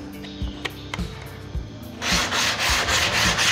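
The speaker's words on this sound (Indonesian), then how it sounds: "untuk sisi yang satunya kita kasih amplas juga ya" Fine sandpaper rubs along the edge of an HPL-faced plywood board: a few short scuffs and taps at first, then a steady run of close, even strokes.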